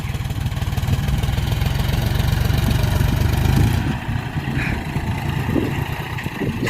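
A tractor engine drones steadily and loudly while ploughing a field with a plough, its low rumble constant throughout and easing a little toward the end.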